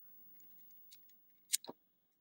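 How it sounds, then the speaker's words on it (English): A knife slicing through the plastic sleeve on a battery pack, a few quiet scratchy cuts and then one sharp close snip followed by a short tearing rasp, with no talking. "So the batteries come in this little sleeve. You'll need to remove this. I'm going to use a knife."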